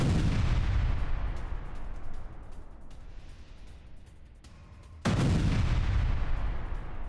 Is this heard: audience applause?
no